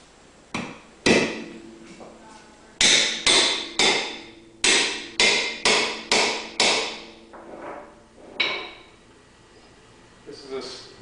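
A slate hammer strikes slate resting on a slater's stake in a series of sharp, ringing knocks, some spaced out and some in a quick regular run, close and loud, tapering to lighter taps.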